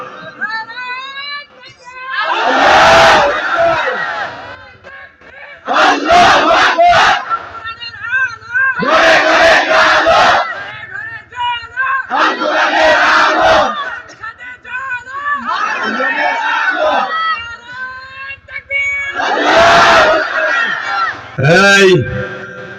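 A large crowd at a Bangla waz sermon in Tangail shouts takbir loudly in repeated bursts, several surges of massed voices with short gaps, one final sharp rising shout.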